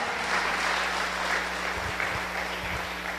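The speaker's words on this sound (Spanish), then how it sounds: "Dale un fuerte aplauso al Señor." A church congregation applauds the Lord during a sermon, continuous steady clapping with a faint low hum and a few soft thumps beneath it.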